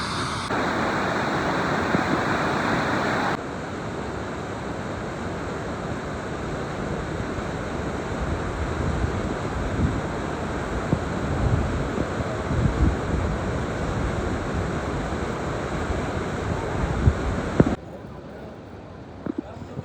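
Floodwater of the Ghaggar river surges past the Chandpura embankment, a loud continuous roar mixed with wind buffeting the microphone, while someone speaks over it.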